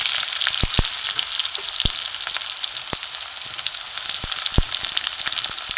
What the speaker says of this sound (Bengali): এবার আমি দেব রসুন কুচি কুচি